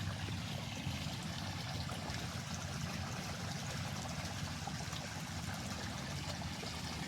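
Irrigation water runs steadily through a channel into an onion field, a faint, continuous gurgling and rushing flow with no break and no voices.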